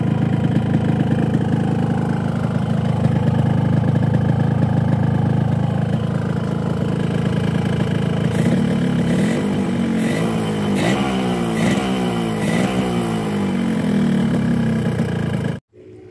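Two-stroke motorcycle engine running on Kawasaki genuine 2T oil, a loud close steady idle with a buzzy drone, then a run of quick revving blips in the second half before cutting off abruptly.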